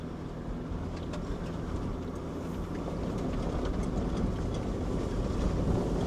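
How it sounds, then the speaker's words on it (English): A truck in four-wheel drive labours through loose sand in a desert wash in Arizona's KOFA wildlife preserve, giving a steady low engine rumble mixed with wind buffeting that builds slightly. "Truck's having a little bit of a struggle getting through this."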